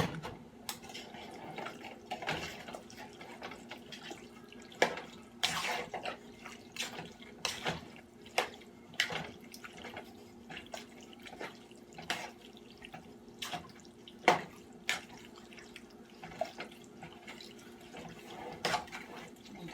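Beef broth is poured into a pot of Brunswick stew, a soft continuous liquid splashing and trickling with scattered drips and small clinks throughout, fairly quiet and close.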